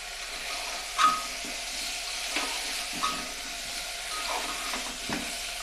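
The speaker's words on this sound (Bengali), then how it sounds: "দু মিনিট সবজি দিয়ে কষে নিয়েছি এবার আমি দিয়ে দেবো পরিমাণ মতো নুন" Chicken stew with vegetables and salt sautéing in a pan, a steady soft sizzle with a few clicks and scrapes of stirring, moderately near with no talking.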